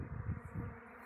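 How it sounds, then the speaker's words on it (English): A swarm of honeybees buzzes in a low, wavering drone, fairly faint and steady with a few pulsing swells. "This is a swarm I just caught, and they're swarming."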